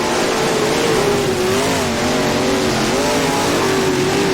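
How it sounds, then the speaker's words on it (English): Modified race cars in the rFactor racing sim at East Bay thunder down the straight side by side, a loud, steady engine roar with wavering pitch from several cars held at high revs, no talk over it. "Oh, it's a drag race down the straight."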